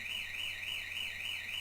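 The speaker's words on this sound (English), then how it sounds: "And the alarm is triggered." A triggered home alarm system sounds a continuous warbling electronic siren, rising and falling in steady rapid cycles, fairly quiet and alone with no talking.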